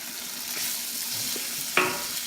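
Bihon rice noodles with pancit mix are stir-fried, giving a steady close sizzle and one sharp utensil clink near the end.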